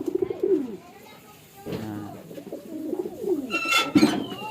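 Pet pigeons cooing in a cage, low throaty burbling coos repeating nearby, mixed with a few higher calls and some rustling, with a person speaking at times.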